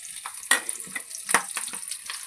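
Mustard seeds crackle and pop in hot oil in a pan, the start of cooking Maggi noodles; sharp scattered bursts rise over a soft continuous sizzle, close and fairly quiet.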